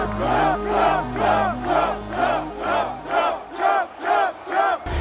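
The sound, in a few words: large crowd cheering at a rally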